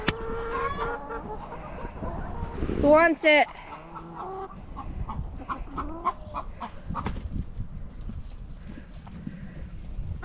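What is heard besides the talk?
chickens clucking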